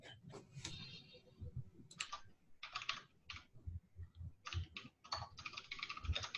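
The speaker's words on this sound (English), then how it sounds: "Someone's typing away." Someone types on a computer keyboard during a Zoom call, producing bursts of quick clicking keystrokes separated by short pauses, fairly faint and with no speech.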